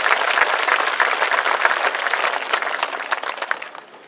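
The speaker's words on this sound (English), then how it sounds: "Let's give them a round of applause for their sacrifices for the graduates before you." Applause from the audience at the 2024 PHS graduation ceremony, honoring the graduates' families: dense, sustained clapping from a large crowd with no talking, easing slightly toward the end.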